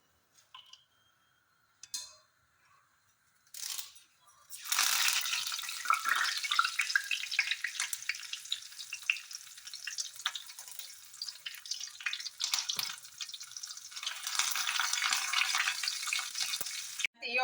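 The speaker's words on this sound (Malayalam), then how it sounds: "നമുക്ക് കറിവേപ്പിലയും കൂടി ഒന്ന് വറുത്തെടുക്കണം." Curry leaves frying in hot oil for a rice flakes and dry fruit mixture: after a few clicks, a steady bright sizzle and crackle sets in and holds, close and fairly soft, with no talking.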